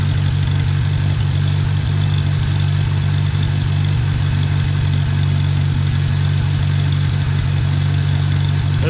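A 1950 Farmall Cub tractor engine runs steadily through a drive, a loud, close, low chugging drone with a mechanical clatter that holds without a break and no talk over it.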